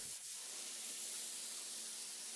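Onions and garlic hit a hot pan with a sudden sizzle that settles into a steady, soft hiss while cooking beef stroganoff with mushrooms.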